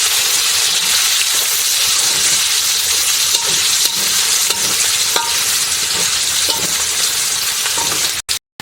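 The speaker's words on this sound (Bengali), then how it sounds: "প্রথমে আমি পেঁয়াজ কুচি একটু মানে লাল বাদামি কালার করে ভাজবো" Chopped onion frying in oil until reddish brown for a chicken curry, a loud, dense, steady sizzle with faint stirring touches throughout, cut off abruptly near the end.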